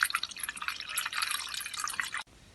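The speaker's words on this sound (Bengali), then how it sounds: "একটি পাত্রের মধ্যে নিয়ে নিচ্ছি জল" Water poured into a bowl in a home kitchen while preparing silver cup fish, a continuous close splashing trickle that stops abruptly near the end.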